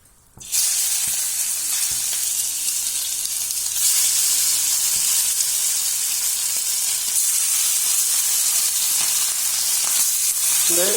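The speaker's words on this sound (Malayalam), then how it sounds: "അപ്പം എണ്ണ ചൂടാവുമ്പോൾ നമുക്ക് ഈ മീൻ ആദ്യം വറുത്ത് വയ്ക്കാം" Small blue tuna pieces fry in hot oil for a fish pickle, a loud, steady sizzle that starts abruptly and holds without a break, close and alone.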